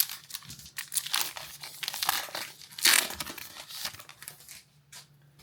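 A foil wrapper on a Topps Heritage baseball card pack gets torn and crumpled open, giving close, loud crinkling and ripping bursts for several seconds with no talk.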